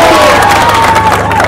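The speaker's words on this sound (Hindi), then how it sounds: "जोरदार तालियां।" A crowd at a film promotion event in Kathmandu for the movie The Man From Kathmandu cheers and claps, a dense, loud wash of voices and applause throughout.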